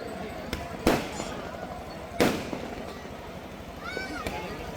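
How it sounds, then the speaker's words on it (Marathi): A couple of sharp firework bangs burst out a second apart over a busy crowd murmur at a Ganesh Visarjan procession in Sangli, followed by fainter crackles and a whistling rise. "फटाक्यांची आतषबाजी सुरू आहे"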